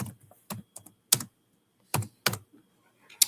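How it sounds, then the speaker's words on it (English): Quick bursts of keystrokes on a computer keyboard, close and crisp, in short irregular clusters separated by brief pauses. "Okay, I typed that wrong, I guess."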